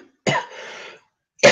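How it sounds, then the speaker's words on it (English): Two close, sharp coughs from one person, separated by a short pause, the first trailing off in a breathy rasp, in an otherwise quiet room. "Feel the urge to cough."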